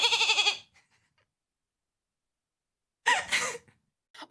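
A person imitates a goat bleat with a loud, quavering, nasal cry, falls silent for a long pause, then gives a second shorter bleat, close to the microphone.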